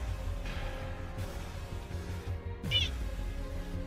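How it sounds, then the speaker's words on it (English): A cat meows once, a short, clear, fairly close call near the end, over a steady low hum of room noise with faint voices in the background. "Cat."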